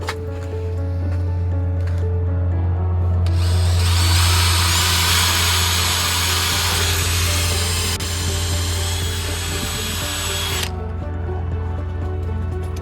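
A power drill whines loudly and continuously for several seconds while drilling weep holes in a sunroom glass roof frame, with a steady mechanical hum before and after.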